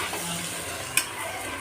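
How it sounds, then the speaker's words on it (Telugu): Rice and tomato pieces fry together in a pan, a continuous sizzle under steady stirring, with one sharp utensil scrape or tap near the middle and no speech. "ముక్కలతో పాటు వేయించేసి మంచిగా కలిపేసి"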